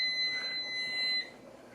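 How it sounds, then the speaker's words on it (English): A kitchen timer alarm sounds while spaghetti cooks, a steady, piercing electronic tone that holds for just over a second and then cuts off abruptly, leaving faint room noise. "the alarm's about to go off"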